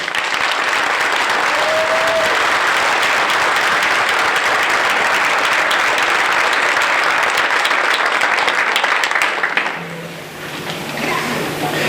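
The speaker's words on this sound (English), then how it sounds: "let's give them all a round of applause" Audience at a January 2012 city inauguration ceremony gives sustained, loud applause for about nine seconds, then the clapping tapers off into a quieter room.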